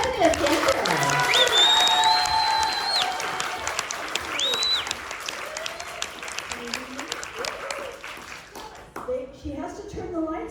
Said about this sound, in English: please give a big round of applause to our next guest